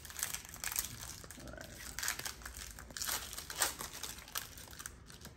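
Foil booster packs of Pokemon Lost Origin trading cards crinkle and tear as they are opened, giving a steady close rustling with brief louder rips and no speech.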